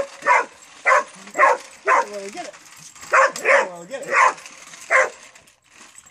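A dog barks repeatedly at a remote-control car, sharp loud yips in an uneven rhythm close by, with a person talking between the barks.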